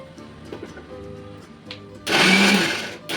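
Kitchen mixer grinder blending coconut, silent at first with faint background, then a loud close whirring motor burst for about a second before stopping and briefly restarting.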